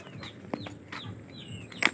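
Backyard chickens and chicks making soft, scattered clucks and chirps at close range, with a brief wing flap or scuffle near the end and no talk.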